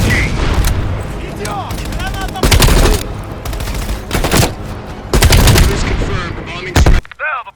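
Bursts of machine gun fire from Call of Duty Black Ops Cold War rattle loudly in repeated volleys, some close and some distant, with booming impacts and voices talking between shots.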